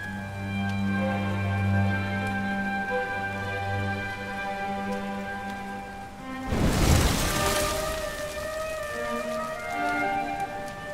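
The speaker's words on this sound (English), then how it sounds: "Looks like the rain's dying down." Rain in the role-playing game Dragon Quest 11S, a steady soft hiss beneath sustained musical tones, swelling into a louder noisy wash partway through before easing back under the music.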